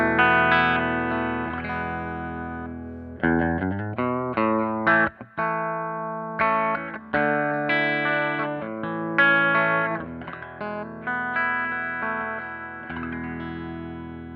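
A 2009 Mexican Standard Telecaster electric guitar with replaced electronics plays a clean tone: a run of ringing single notes and chords, close and steady, each separated by brief gaps, with no voices.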